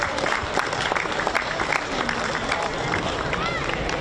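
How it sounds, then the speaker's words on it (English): Crowd applause from supporters at a rugby final, a dense wash of clapping and cheering that stays loud and steady throughout, with crowd hubbub mixed in. "A big round of applause for Methven,"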